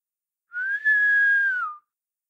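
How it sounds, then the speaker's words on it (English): A single clear whistle tone, sustained for just over a second with a slight rise and fall at the end, alone in silence. "The portress blows in a whistle."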